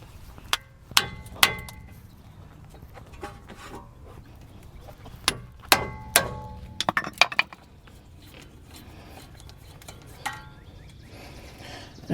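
Sharp metallic strikes ring out against a stuck front brake rotor on a Hyundai Palisade, scattered single blows and a quick cluster of hits over a low background hum.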